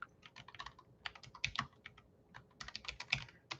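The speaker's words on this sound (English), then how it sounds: "I'll type the name out to you" Computer keyboard typing, with quick irregular bursts of clicking keystrokes and short pauses between words, close and moderately quiet with no talking.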